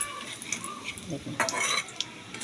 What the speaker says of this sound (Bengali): এইভাবে আস্তে আস্তে করে উল্টে পাল্টে ভেজে নিলেই আমার রেডি হয়ে যাবে আজকের সিমইয়ের বিস্কুট।